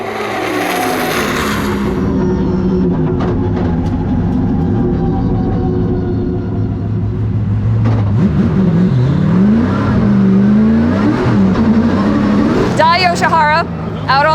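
A Formula Drift car at a skills battle runs on the track, its engine droning loud and steady, then revving with rising and falling pitch near the end, while voices talk over it.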